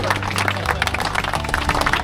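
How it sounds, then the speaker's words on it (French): Audience applause for team number 3 at an autumn vintage car outing at a castle, a short burst of clapping over a low rumbling background with music-like tones. "On va applaudir très très fort l'équipe numéro 3."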